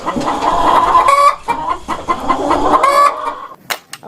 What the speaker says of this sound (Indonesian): Wow, ada seekor ayam.